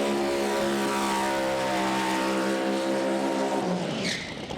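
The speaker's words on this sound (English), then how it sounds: "John Webster scrubbing in some new tyres, or just trying to ruin some old ones" Roaring high-revving engine of a Pro Mod drag racing car doing a tyre-scrubbing burnout at Santa Pod Raceway, loud and sustained, then the revs drop sharply near the end.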